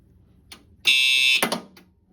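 A loud electronic fire alarm, triggered by a pulled pull station on a 4010 fire alarm system, sounds briefly, a harsh tonal blare that cuts off abruptly, with a few faint clicks before and after.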